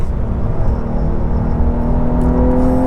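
A 2023 Porsche Carrera 911 T engine pulling hard while driving, a loud steady drone with a gradually rising pitch, heard from inside the car with no talking.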